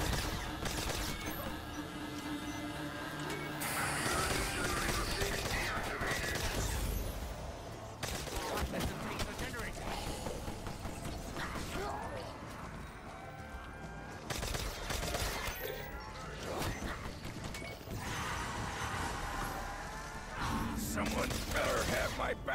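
Burst-fire rifles in Black Ops III multiplayer, rapid rattling volleys and impacts layered with game music and effects, dense and continuous with several pauses and shifts in intensity, while players talk over the action.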